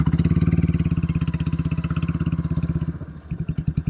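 Royal Enfield 350 motorcycle on a hill test ride, its single-cylinder engine thumping steadily and loud up close, the beat faltering briefly near the end before picking up again.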